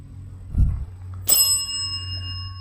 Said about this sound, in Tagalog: Ikaw ba ang kumakatok sa kampana?